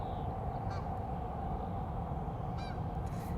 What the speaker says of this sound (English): A solitary goose flying over.